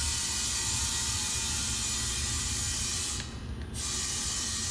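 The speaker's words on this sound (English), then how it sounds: "Now we're just going to send some air through it." Compressed air blasts through an air-conditioning condensate drain line in a loud, steady hiss that breaks briefly with a short gurgling sputter, then resumes.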